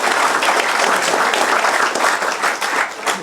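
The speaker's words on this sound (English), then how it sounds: "let's give a round of applause for Beyond the Stars." A dense, steady round of applause rises from an audience at a youth play showcase, honoring the play Beyond the Stars, the clapping full and continuous throughout the short burst.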